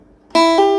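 A single plucked note, sol, on a phin lute rings out clearly after a moment of quiet, followed by a second plucked note that sustains.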